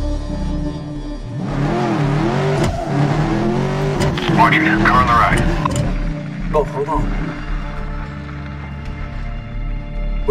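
A car races past during a video game car chase in Medal of Honor Warfighter, its loud engine roar swelling and fading while voices talk over it.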